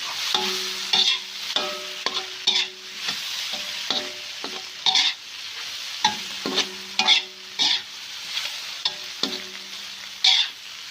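Ridge gourd, egg and spring onions stir-fried in a pan, with repeated spatula scrapes and clanks in an uneven rhythm over a steady background sizzle, close and fairly loud, no voices.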